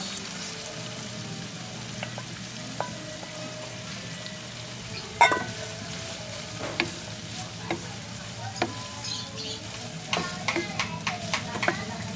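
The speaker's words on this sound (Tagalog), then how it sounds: "Luto na yung hipon, lagay na natin ang labanos." Radish sliced for ginisang labanos sizzles gently in a pan with cooked shrimp, a steady low frying hiss with occasional stirring clinks and taps, no talking.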